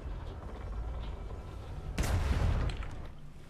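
A ship's cannon firing in the pirate video game Atlas: one heavy, booming blast rises out of low rumbling ambience and rolls off over the following second.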